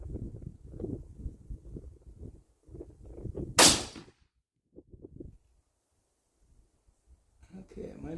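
A single sharp, loud 6.8 Western rifle shot fired at a target, standing out from a man's speech before it and dying away into quiet.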